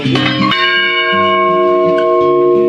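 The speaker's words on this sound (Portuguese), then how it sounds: "Os sinos propriamente ditos, de 90 anos de idade, só batem em datas especiais." Ninety-year-old church bells ring out loud and close, a struck chime followed by long, layered overtones that hum and decay across nearly three seconds, with no one talking.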